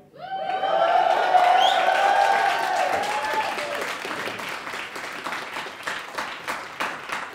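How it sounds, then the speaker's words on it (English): A comedy-club crowd at a student comedy society show lets out loud whoops and cheers, with shrill rising voices in the first few seconds, then tails off into scattered clapping that comes in separate bursts. "let's get some whooping and cheering going"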